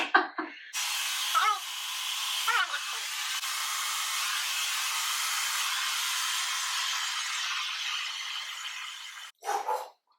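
A hair dryer with a diffuser running on high heat while styling curly hair, blowing as a loud, steady, close-up rush of air for several seconds, with brief yelps from a dog at the start and end.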